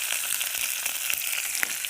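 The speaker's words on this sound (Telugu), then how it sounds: "ఈ పోపు వేసుకుంటున్నామండి" Cumin and mustard seeds with green chillies crackle and sizzle in hot oil, a bright hiss with rapid small pops, close and steady for a moment.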